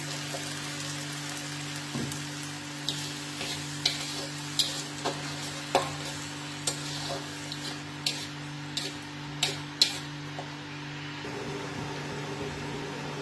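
Steady sizzle of onions frying in a pan with a low background hum, broken by a run of sharp clicks and scrapes from stirring.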